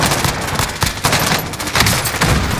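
Call of Duty: Warzone gunfire comes in dense, loud, rapid bursts of close shots that crackle and overlap almost continuously, with no speech.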